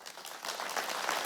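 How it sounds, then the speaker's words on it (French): An audience at a municipal New Year's greetings ceremony in Val-de-Reuil applauds two young women, a brief soft burst of clapping that swells slightly and holds steady. "On peut les applaudir, effectivement."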